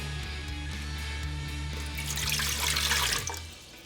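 Water is poured into a Zojirushi bread maker, a rising, splashing pour over a low steady appliance hum that swells toward the end and then fades.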